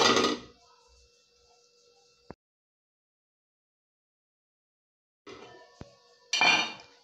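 A lid set onto a soup pot with a bright metallic clink, in a quiet kitchen with soft rattles of cookware before it and more clattering of pots and utensils a few seconds later.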